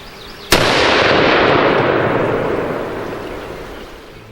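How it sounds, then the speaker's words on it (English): A single loud, close gunshot from a Desert Tech HTI rifle, chambered in .50 BMG or .375 CheyTac, fired on a range: one sharp crack followed by a long, slowly fading boom. "Let's take a shot."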